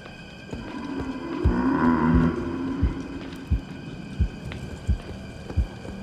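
A deep, low bellowing groan of a Minotaur in a video game swells and fades, followed by heavy evenly spaced thuds like slow footsteps over a humming background.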